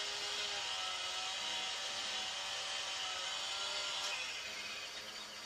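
A chainsaw cuts firewood in the Farming Simulator 17 video game, a steady, dense buzzing roar that holds at an even level throughout.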